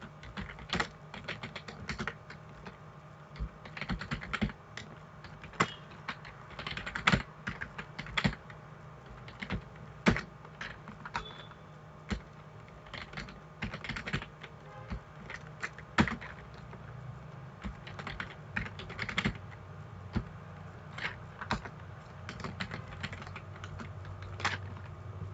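Database queries are typed on a computer keyboard in a quiet room, with rapid irregular key clicks and taps that come in bursts and short pauses for about twenty-five seconds, close and fairly faint.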